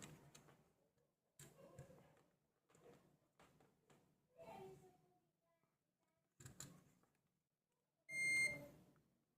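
A digital multimeter's continuity buzzer gives one steady, fairly loud beep near the end, after scattered soft clicks and quiet voices from someone testing electronic components in a circuit.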